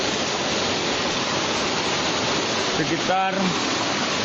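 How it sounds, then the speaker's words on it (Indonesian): A waterfall near Desa Ule Alu rushes as a constant broadband roar. A voice speaks briefly over it. "Kalian sudah sampai ke tempat air terjun."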